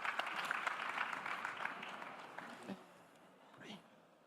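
Audience applause for a round-table panel at an industry conference, a moderate wash of clapping that fades out over the last couple of seconds with a few scattered claps.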